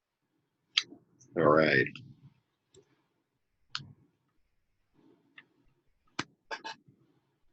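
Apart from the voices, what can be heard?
shuffling tarot cards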